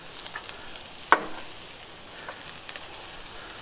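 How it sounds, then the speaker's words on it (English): A seasoned burger patty with kosher salt and black pepper sizzles over grill coals for a Kentucky Hot Brown burger. A faint, steady frying hiss runs throughout, broken by one sharp click near the start, with no voices. "while the patty's cooking"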